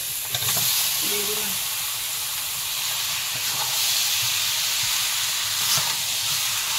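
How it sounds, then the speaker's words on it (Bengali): Chicken dropped into hot oil and ginger-garlic spice paste, frying with a loud, continuous close-up sizzle and hiss that holds steady throughout, cooked over a charcoal fire outdoors. "এবারে মাংসটা ছেড়ে দাও।"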